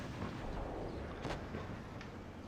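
A tank cannon fires in a World of Tanks Blitz tournament match, one sharp burst near the middle over steady game noise and rumble, with a fainter second report soon after.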